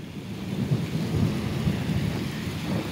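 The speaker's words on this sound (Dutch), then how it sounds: "Dus er is een blikseminslag geweest." Heavy thunder rumbles low and continuous for about three seconds, mixed with steady rain during an April 2019 thunderstorm in Zuidwolde, the Netherlands.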